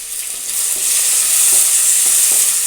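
Tomato and green chili frying in a pan, a steady loud sizzle throughout with a few soft stirring scrapes and knocks, close up and with no voices.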